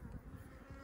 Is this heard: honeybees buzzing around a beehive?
yes